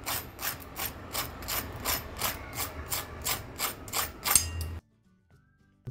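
A crispy fried spring roll with a flour-sheet coating crunches in about a dozen sharp, evenly spaced bites or presses, close and clear with no talk, before everything falls silent.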